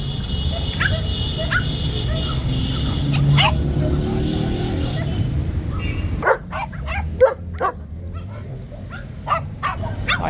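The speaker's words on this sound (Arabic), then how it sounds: "كلب جيرمن" A male German shepherd, about a year and a half old, barks at a street pet market in Baghdad's Adhamiya district. The barks come as several sharp bursts over a steady drone of traffic and crowd, with people talking nearby.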